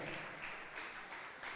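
Audience applause welcoming a guest onto the stage at a Marathi event, a steady dense wash of clapping throughout, moderately faint and without talk.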